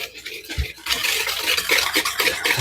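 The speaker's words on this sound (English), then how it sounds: "we're just gonna whisk that all together" Sugar, cocoa, espresso powder, baking soda and salt are whisked together in a bowl, giving a continuous scratchy, brushing rustle with a brief knock at the start, close and fairly loud.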